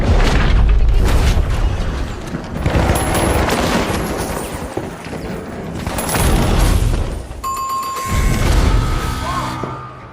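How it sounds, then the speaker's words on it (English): A rocket launches and explodes in the arena shooter The Finals. Loud booming blasts and crashes come in heavy waves, with dense gunfire mixed through the whole stretch. "Rocket away!"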